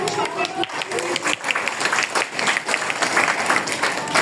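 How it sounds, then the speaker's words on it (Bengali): An audience applauds at a primary school week prize announcement in Dhanmondi, Dhaka, with brisk, continuous clapping from many people and voices mixed into the crowd noise throughout. "হাততালি আওয়াজ জোরে, তোমাকে বেশি হাততালি দিচ্ছে"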